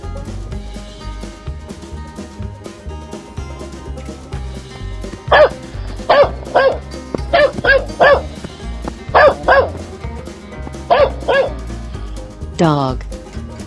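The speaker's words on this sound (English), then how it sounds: "Dog." A dog barks in a rapid burst of short, loud woofs, mostly in pairs and clusters, then gives a final drawn-out whine, all over steady background music.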